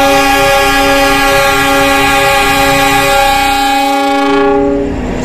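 A train sounds a long, loud, steady horn blast, signal 35, at Purwokerto station, and the horn is held for about five seconds before cutting off. Faint rail rumble sits underneath it.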